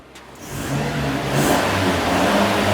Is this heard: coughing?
no